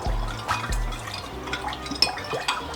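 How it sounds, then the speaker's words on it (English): Stock concentrate is stirred with a teaspoon into water as a base for cooking white rice, producing soft liquid swirls and light spoon taps against the container. "take a teaspoon of this, put it in our water, and give it a stir"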